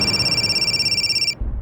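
A telephone rings with a steady electronic trill that cuts off after about a second, followed by a brief low rumble.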